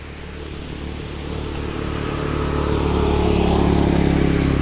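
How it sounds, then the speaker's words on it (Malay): A motorcycle passing nearby beside a flooded oil palm plantation in heavy rain, its engine drone rising steadily louder over a few seconds against a constant hiss of rain. "Motor kat sana."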